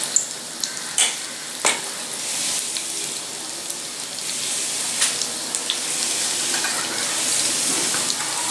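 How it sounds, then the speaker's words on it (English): Methi pakoda batter sizzles and crackles as it deep fries in hot oil, a steady close hiss broken by sharp pops and a few clinks, with no speech. "And now I'll deep fry this in oil."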